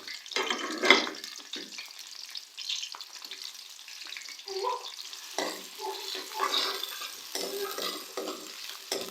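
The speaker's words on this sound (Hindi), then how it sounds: "प्याज का जो है हम लोग गोल्डन कलर आने तक फ्राई करेंगे" Chopped large onion hitting hot oil in a kadai, a loud burst of sizzling with steady frying crackle and scrapes of stirring, continuing close and busy throughout.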